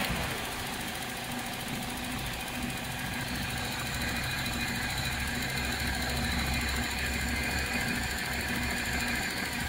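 A Toyota Unser (Kijang) engine idles steadily with its converted electric radiator fan running, a constant close mechanical hum and whir with no talk.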